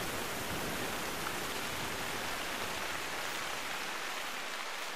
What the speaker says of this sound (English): the wind and rain would pick up and start to get really, really loud right there when I'm starting to speak